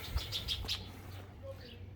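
A bird chirping in a home vegetable garden, a few quick bright chirps early on, then fading into quiet outdoor background hum.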